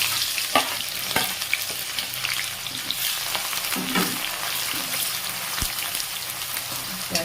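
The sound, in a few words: chopped onions frying in pan with spices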